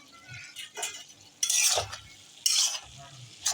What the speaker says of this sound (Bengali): আমি ভালো করে নেড়ে চেড়ে নিলাম